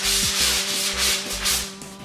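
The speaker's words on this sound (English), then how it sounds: "Just a light sanding in the middle." Light hand sanding across the middle of a surface being prepared for painting in a living room, heard as close, steady rhythmic rubbing strokes over a faint constant hum, with no talking.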